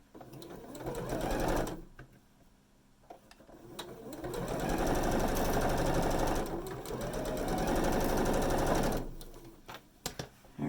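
A sewing machine stitches a seam on a spinning star quilt block in two loud, close bursts of rapid rattling, the second longer, separated by a short pause.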